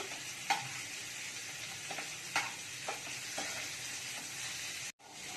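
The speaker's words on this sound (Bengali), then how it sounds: "একটু লাল লাল করে ভেজে নেব। লাল লাল করে ভেজে নিয়ে উঠিয়ে রাখবো।" Bottle gourd and prawn pieces frying in a pan until reddish, a steady close sizzle with occasional spatula scrapes and clicks, alone with no talk.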